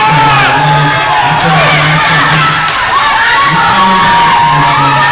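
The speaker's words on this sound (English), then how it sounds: "they are cheering their hearts out for the challengers here tonight" A wrestling crowd roars for tag team challengers, with loud, sustained cheering, shouts and whoops filling the arena close up.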